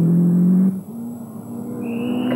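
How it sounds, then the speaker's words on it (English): A Lancia Turbo 4x4 Group A rally car on the 1990 Lombard RAC Rally, its engine droning loud and close, then briefly easing off before the pitch climbs again as it accelerates away. "Driving the Lancia Turbo"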